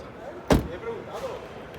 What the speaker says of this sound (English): So slightly better closing sound on the front. Doors are a bit heavier.